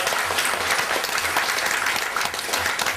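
At a museum event, an audience claps loudly and continuously, a thick, even patter of hands that fills the whole moment.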